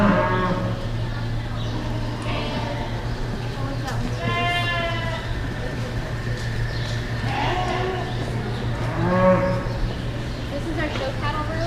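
Cattle moo several times inside a show cattle room at an animal science barn, the calls rising over a steady low mechanical hum that runs throughout.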